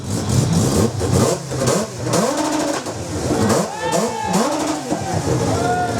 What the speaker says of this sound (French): il y a une particularité, c'est un moteur birotor. Écoutez le bruit.